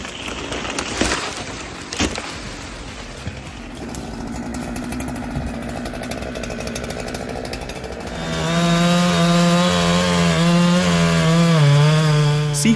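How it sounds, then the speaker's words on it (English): A chainsaw cuts into white pine, first a rough rasping idle and bite, then the engine revs up into a loud, steady high-pitched whine as the chain bites through the wood, close and continuous. "It's clearly their first time using a chainsaw."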